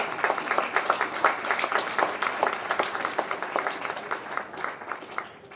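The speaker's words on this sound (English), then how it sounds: "Please give our 6th and 7th grade honorees another round of applause." A small audience at a middle school awards banquet applauds 6th and 7th grade honorees, with distinct individual claps in a rapid, uneven patter that tapers off near the end.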